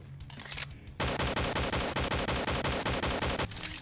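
MK-16 rifle fire in the game Slendytubbies 3, a loud, rapid automatic burst of evenly spaced shots lasting a few seconds, preceded and followed by a quieter background.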